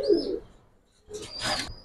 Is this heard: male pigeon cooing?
yes